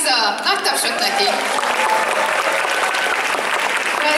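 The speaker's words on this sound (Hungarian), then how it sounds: "Nagy tapsot neki!" A cosplay event audience bursts into loud, sustained applause, dense clapping filling the hall throughout, with a voice briefly audible at the start.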